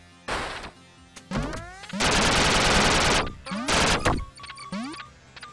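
Gunshots in Duck Game burst out as loud, close retro-style shots and a long rapid machine-gun volley, broken by gaps and descending zapping effects.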